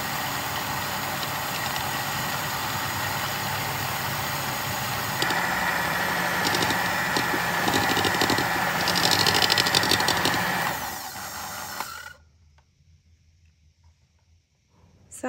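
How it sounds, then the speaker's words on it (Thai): An electric mixer whips cream to stiff peaks, a loud, close, steady motor whine with rising and falling intensity that runs for about twelve seconds, then cuts off into near silence. "หลังจากนั้นใช้เครื่องตีวิปปิ้งครีมให้ตั้งยอดค่ะ"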